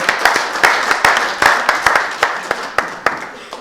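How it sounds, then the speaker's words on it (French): A few wedding guests clap at a traditional wedding ceremony, with distinct, sharp individual claps in an uneven rhythm over a soft background of murmur, loud and close. "On applaudit."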